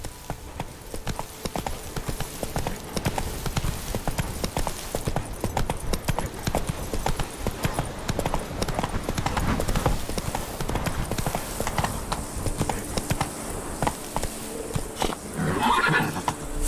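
Horse in The Witcher 3 video game galloping with steady rapid hoofbeats and neighing near the end, loud and continuous with faint game ambience.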